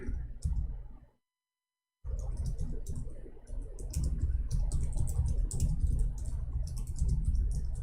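Rapid clicking of keys on a computer keyboard, close by and fairly continuous, broken by a second of silence before the typing resumes.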